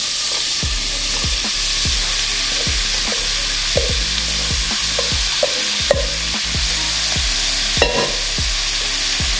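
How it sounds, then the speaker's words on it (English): Cubed butternut squash sizzling in a hot pan while being stirred, a steady frying hiss broken by repeated scraping knocks of the spoon against the pan, close and loud with no talking. "Then I'm gonna go ahead and add the butternut squash."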